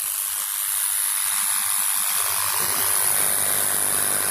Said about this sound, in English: you can hear that the mechanism stops as soon as the arc started again